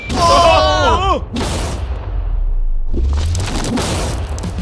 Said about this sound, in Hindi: इस धमाके ने सच में मुझे डरा दिया।